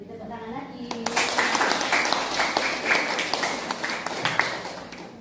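Classroom applause after a group presentation, a sudden burst of many hands clapping that starts after a brief moment of speech and continues steadily, moderately loud.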